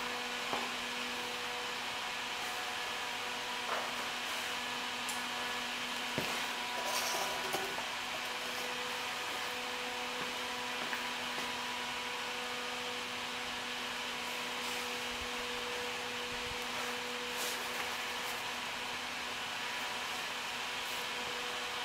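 A 3-kilowatt induction heater runs steadily while heating zinc-aluminum metal, giving a constant faint electrical hum and whine with a few soft ticks and clicks, no voices.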